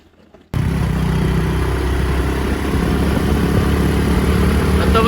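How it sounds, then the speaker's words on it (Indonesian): Motorcycle engines run close by on a quiet early-morning street in Aceh, a steady near rumble with mechanical clatter that starts suddenly after a brief quiet moment and holds without talk. "Nah, ini ada motor, dua motor"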